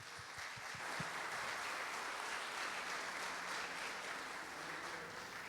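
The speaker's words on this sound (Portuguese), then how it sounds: "Quero agradecer por esses aplausos" A church congregation applauds, many hands clapping in a steady, even wash, fairly soft and distant, with a few sharper, nearer claps at the start and no speech over it.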